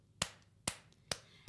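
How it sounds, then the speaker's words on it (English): Three sharp hand claps spaced evenly about half a second apart, close and crisp, each a single distinct smack with quiet gaps between and a fourth starting at the very end. "we're going to clap them again"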